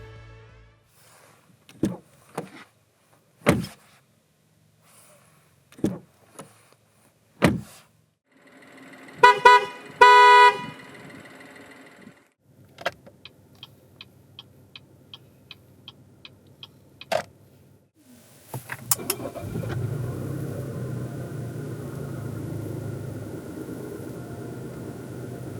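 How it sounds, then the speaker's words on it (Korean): A 2019 Chevrolet Malibu 1.35 E-Turbo's horn honks in short bursts, power windows whir between scattered clicks and ticks, then the engine starts and settles into a steady idle. "잠시 신형 말리부가 들려주는 소리를 들어볼까요?"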